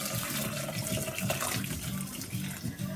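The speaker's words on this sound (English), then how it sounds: "I already have boiling water, well, hot water from the kettle." Hot water from a kettle pours into a pan holding fish and other ingredients for marmitako, a steady splashing rush of liquid that runs the whole time, close by and moderately loud.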